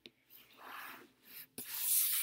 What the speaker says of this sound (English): I'm going to pull the cards this way because the shuffling's getting to me.